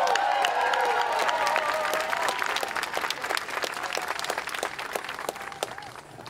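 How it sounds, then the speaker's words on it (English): Sustained audience applause fills a large outdoor crowd at a rally, with dense clapping and a few scattered cheers, loud at first and gradually thinning. "Let's give another round of applause."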